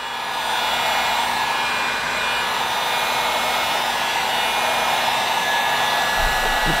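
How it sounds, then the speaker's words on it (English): Heat gun on its high fan speed at the lowest temperature, warming a car fender before rolling: a loud, steady, close whooshing blast of air, unbroken for several seconds with no talk. "Heat gun's on the high fan speed and the lowest temperature."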